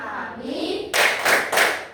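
A group of schoolchildren in a classroom claps in unison during a focus-clap routine, three sharp rhythmic bursts following a rising murmur of voices.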